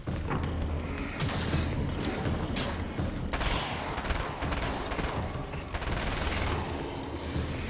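Submachine gun fire in the video game Alan Wake's American Nightmare, loud, dense bursts of rapid shots running almost continuously through the clip, with brief gaps between volleys.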